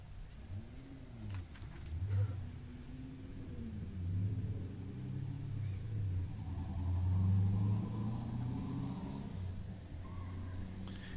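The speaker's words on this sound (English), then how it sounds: "Headed on track, we've got the white Miata of Tucker Tenhoff" A white Mazda Miata drift car runs on a track at a drifting competition, its engine a distant, rising and falling rumble with revving swells, heard alone without talk.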